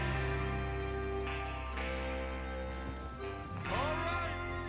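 Horses gallop in Red Dead Redemption 2 as a gang rides out to rob a train, hoofbeats under a sustained tonal music bed and game ambience, with a rising whinny-like sweep near the end.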